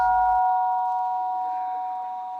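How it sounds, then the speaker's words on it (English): A monastery gong struck once to call monks to breakfast, ringing with a long steady tone that slowly decays over a couple of seconds, clear and alone. "When the monks heard the gong, they went up to line up for the breakfast."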